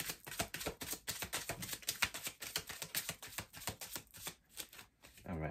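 Tarot cards shuffled by hand at close range in a rapid, steady riffle of crisp flicking and slapping, carrying on for several seconds with a brief pause near the end.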